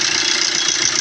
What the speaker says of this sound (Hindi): शॉर्ट सेल्फ में गाड़ी स्टार्ट हो गया। और इसका साउंड भी आप सुन सकते हैं किस प्रकार साउंड है।